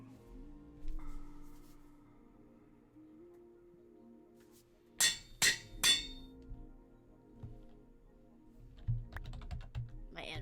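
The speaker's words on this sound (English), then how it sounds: "I hear you typing." A few sharp keystrokes on a computer keyboard, three crisp clicks bunched together near the middle and a faint scatter more toward the end, over a quiet low background hum.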